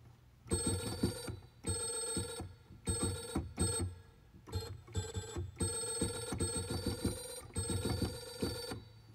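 A telephone rings inside a video game, its electronic bell trilling in steady repeated bursts with short gaps between them, loud and close with no one speaking.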